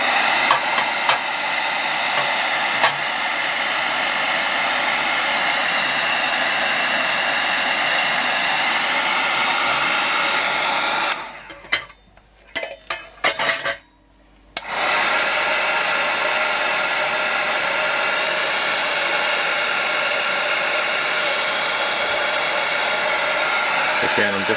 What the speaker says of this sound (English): I'm just heating this up so it doesn't shock the wax and cool it down too quickly